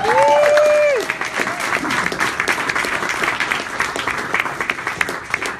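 An audience at a live music performance in Boston applauds and cheers, a steady wash of clapping with whoops and shouts near the start, continuing throughout.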